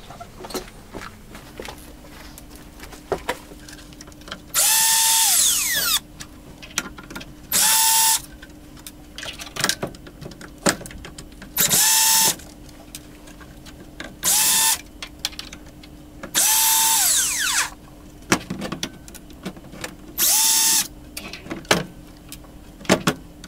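A power driver whirs in repeated short bursts while backing screws out of a Mitsubishi DLP TV, each burst about a second long, with quieter handling and clicks in between, all close up.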